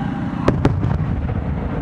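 Fireworks burst at the Omagari fireworks festival, two sharp close bangs followed by softer crackling and rumbling echoes across the night air.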